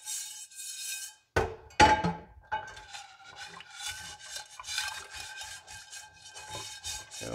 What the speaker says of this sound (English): We're gonna take our chainmail scrubby, very, very lightly.